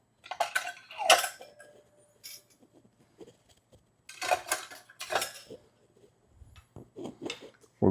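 Metal comb blades fitted into a manual meat tenderizer and jerky slicer produce sharp metallic clinks and rattles in scattered bursts, close by against quiet pauses.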